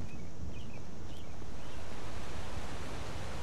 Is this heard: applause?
no